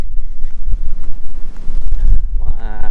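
Strong outdoor wind buffets the microphone beside a tomato vegetable garden, a steady low rumble with gusty surges and no talk, easing near the end as a faint animal-like tonal sound rises.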